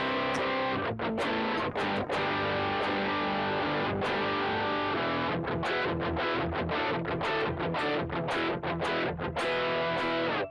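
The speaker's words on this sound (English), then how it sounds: "And let's try some power chords." Heavily distorted electric guitar plays chugging power chords with a thick, doubled octave tone, loud and continuous with short choppy stops.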